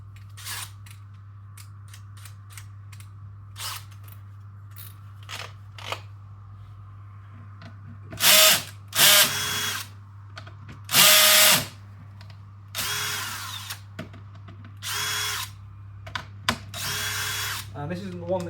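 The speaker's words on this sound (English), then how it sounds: "Sorry, just need to get the drill and try and make this a bit quicker as well." A cordless power drill drives 3mm screws into a Scorpion EVO, several short bursts of whirring that start and stop at close range over a constant low hum, with some clicks and handling noise between them.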